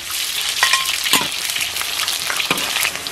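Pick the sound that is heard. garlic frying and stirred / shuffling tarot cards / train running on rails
garlic frying and stirred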